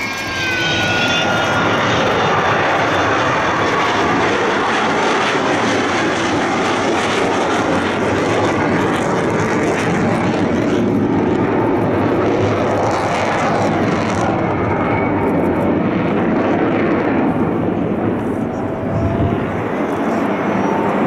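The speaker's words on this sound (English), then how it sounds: "you get to see the wheels down in this fly past" Bomber aircraft at the 2015 Yeovilton air show making a fly-past with its undercarriage lowered, a loud, steady engine roar that fills the whole stretch without a break and with no talking.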